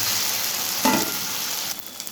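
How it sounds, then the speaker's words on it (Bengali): Chopped tomatoes hit a pan of frying ginger and garlic for chicken biryani, giving a steady close sizzle with a brief louder burst as they are stirred in. "এবার আমি এর মধ্যে কুচিয়ে রাখা টমেটোগুলোকে দেবো, দিয়ে ভালো করে হচ্ছে টমেটোগুলোর সঙ্গে মিশিয়ে নেব।"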